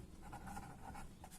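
A pen scratches quickly across paper as numbers are written by hand, with short strokes in a soft, close, steady rhythm.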